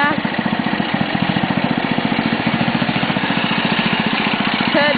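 A Simplicity 627 lawn tractor engine runs steadily nearby, its even, rapid pulsing putter holding at a constant idle-like pace throughout with no talk over it.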